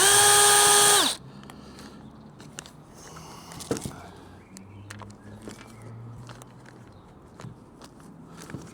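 A power drill undoes the screws on a stubby pressure-washer trigger gun, giving a loud motor whine for about a second, followed by quieter handling clicks and taps.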